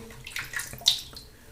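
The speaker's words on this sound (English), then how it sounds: "Just a touch more water." Tap water runs briefly into a bowl or sink while shave soap is being prepared, a close, soft splashing trickle with a small surge near the end.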